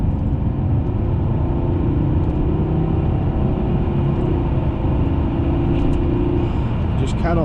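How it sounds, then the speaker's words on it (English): Steady low engine drone from a Volvo S80 five-cylinder, heard from inside the car on a night drive, a continuous rumble with a faint rising note near the end and no talking. "Just cannot beat the sound of a 5-cylinder."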